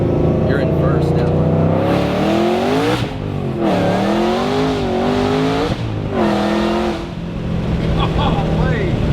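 A 900 hp Shelby GT500 with a manual clutch, heard from inside the cabin in first gear: loud engine revs that climb and fall several times under throttle, with a strong steady drone between pulls and faint talk in the background.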